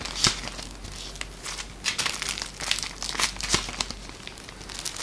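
A paper envelope is handled and torn open, giving crisp crinkling and rustling with sharp crackles spread over a few seconds, close and moderately loud.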